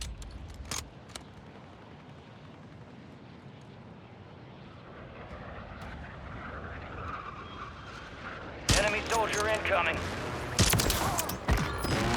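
Gunfire in the video game Warzone 3 crackles out in loud, rapid bursts late in the clip, after a stretch of low, distant engine-like rumble.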